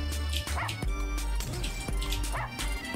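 Cartoonish dogs bark and yip in the video game Russian Subway Dogs, several short barks and whimpers in quick bursts over game music, with some talk in the background.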